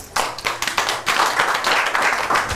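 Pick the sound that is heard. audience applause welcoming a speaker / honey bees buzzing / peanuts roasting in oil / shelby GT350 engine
audience applause welcoming a speaker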